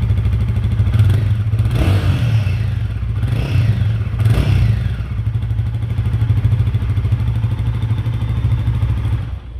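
A Royal Enfield Guerrilla 450 motorcycle engine runs loud and close with a steady idle rumble, rising in three sharp revs early on before settling back to a throbbing idle.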